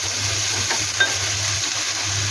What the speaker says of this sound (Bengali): টমেটো দিয়ে একটু ভালো করে ভেজে নেব